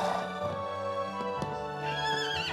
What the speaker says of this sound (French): Je n'ai jamais vu de cheval nain.